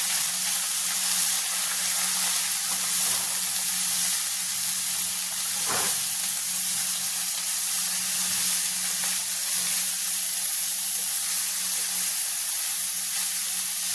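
Spinach and chicken thoran being stirred in a pan, giving a steady, close sizzling hiss that runs evenly throughout with a faint steady hum underneath and no speech.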